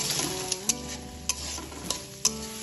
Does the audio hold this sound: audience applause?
no